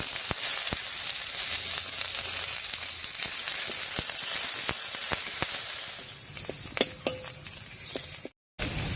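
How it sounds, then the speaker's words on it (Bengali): Chopped onion hitting hot oil with cumin, dried chili and bay leaf tempering, for a catfish curry, fizzes in a steady, close sizzle with scattered crackles and pops, the hiss easing slightly near the end before a brief dropout. "এবার এর মধ্যে দিয়ে দিচ্ছি পেঁয়াজ কুচি"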